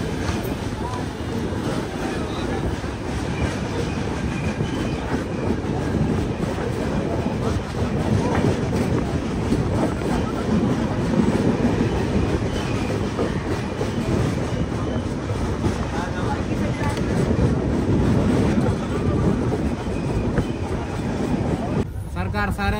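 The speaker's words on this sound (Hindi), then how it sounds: "तो 3:31 पे ट्रेन निकल चुकी है पाटलिपुत्र से" General-class coach of the Poorvottar Sampark Kranti passenger train running on tracks after departing Patliputra, a loud continuous rumble and rattle of wheels with faint clickety-clack and voices in the carriage.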